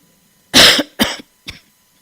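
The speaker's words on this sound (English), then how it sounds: "I'm taking a drug that's causing this cough that I can't control" Three uncontrollable coughs from a man whose medication causes a coughing side effect: a loud harsh burst, a second shorter one, then a faint brief third, close up and alone.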